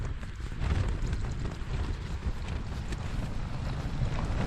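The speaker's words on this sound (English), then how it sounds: "Wind's picking up." Strong wind roars steadily across a Northumbrian crag at a camp, a loud continuous buffeting rush with heavy low rumble against the microphone that never lets up.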